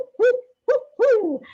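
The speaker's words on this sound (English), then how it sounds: "you might hear that denizen of the old growth forest, the spotted owl" A spotted owl of the old-growth redwood forest at Muir Woods gives three loud, close hoots in a row, separated by silence, the last one longer and sliding downward.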